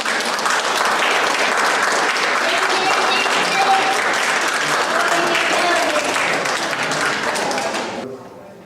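Dense, sustained applause from a large indoor audience, loud and steady for several seconds before tapering off sharply at the end, with no one speaking over it.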